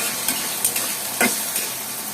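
Onions frying in hot oil in a wok, a steady close hiss of sizzling with a few brief stirring scrapes and pops.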